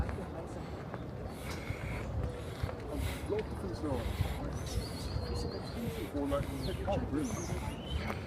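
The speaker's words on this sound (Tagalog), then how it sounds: "May ibon." Birds call and chirp intermittently in the background over outdoor ambience, with a person's voice mixed in.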